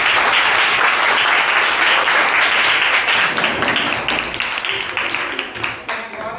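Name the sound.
class applause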